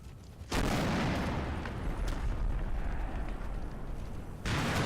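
Video game artillery mortar barrage with smoke on a bridge: loud sustained roaring blasts of explosions, starting abruptly, rumbling continuously for several seconds and surging again at the end, with no voices.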